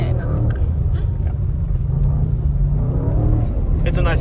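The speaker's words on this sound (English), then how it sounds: "Could be a bit louder, I have to say. The exhaust is a little bit disappointing." Low rumbling exhaust of a stock Audi RS6 C8 drifting on snow, heard from inside the cabin as a steady droning growl with occasional swells, while voices talk over it.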